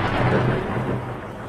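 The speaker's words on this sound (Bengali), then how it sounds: "এমন সময় কাছে কোথাও একটা বাজ পড়ল" Thunder from a lightning strike nearby rolls as a loud, deep rumble that fades slightly over its short span.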